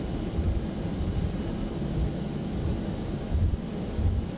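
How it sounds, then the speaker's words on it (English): Aircraft engines in the X-Plane 11 flight simulator give off a steady, broad low drone with a faint whine above it, continuous and unchanging throughout, with no talk. "I hope you can hear the engines and everything all right."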